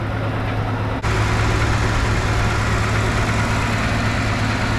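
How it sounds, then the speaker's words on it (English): A 1971 Chevy C10 engine idles close by with a smooth, steady exhaust note, loud and continuous with no talking, after a brief dip near the start. "Man, that thing's purring like a kitten, ain't it? She's quiet. Man, that thing's quiet back there. It's purring like a kitten. Nice, steady exhaust note."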